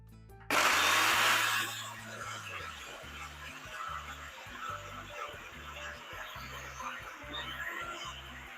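An electric kitchen blender whirs loudly as it blends fresh mint leaves with half a cup of water for a summer sharbat, starting abruptly with a strong burst, then settling into a steady grinding hum behind faint background music.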